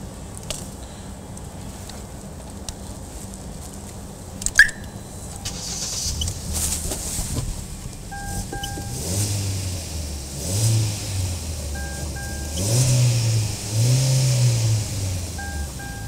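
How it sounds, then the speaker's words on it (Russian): A 1.4-litre petrol car engine being jump-started with a Beatit G18 booster pack, a brief cranking whir followed by the engine catching and settling into a steady idle that rises and falls, heard close with no talking. "Заново подключаем бустер к клеммам и проводим еще один пуск."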